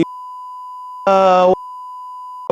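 A single loud electronic alarm beep with a buzzy, harmonic tone lasts about half a second, with a steady faint tone sounding before and after it.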